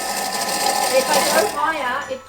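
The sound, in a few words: food chopper chopping spice paste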